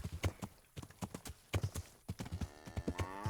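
Horse hooves clip-clop in the medieval video game Kingdom Come: Deliverance, a steady close rhythm of sharp hoof strikes that keeps going at a brisk walking pace.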